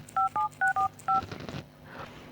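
Telephone keypad tones from a phone being dialed: five short, evenly paced two-tone beeps, close and clear, followed by faint rustling and a soft murmur.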